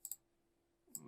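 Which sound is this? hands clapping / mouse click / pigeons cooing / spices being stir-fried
mouse click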